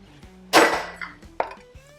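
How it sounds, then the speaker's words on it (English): Garlic cloves smashed on a cutting board in a grill and bar kitchen: one sharp, loud whack followed by a smaller knock, with faint background hum. "Now, could chop that garlic up."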